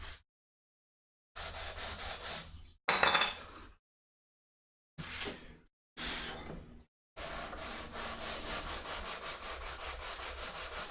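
Someone sands wooden bookends by hand, with sandpaper wrapped around a can to shape the curved edge. Bursts of rough rubbing strokes come between silent gaps, and a long continuous stretch of scraping closes the clip.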